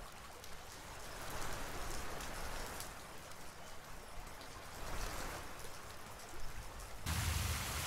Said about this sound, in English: Ooh, rain. Rain, rain, rain.